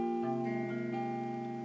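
Guitar plays a few chords and plucked notes from a song, quiet and ringing in a short phrase with sustained tones and no talking.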